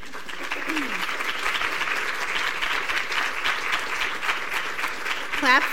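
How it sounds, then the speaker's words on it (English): Audience applause at a University of Wisconsin–Madison School of Nursing event, steady and dense throughout, with a brief spoken voice early on and a short whistle-like sound near the end. "Clap for these people"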